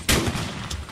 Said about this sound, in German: Wer schießt denn hier mit Schrotflinte?